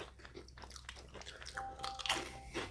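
A close, crisp crunch of biting into a dry, brittle Indonesian cookie, followed by a few chewing crackles, with low background rumble.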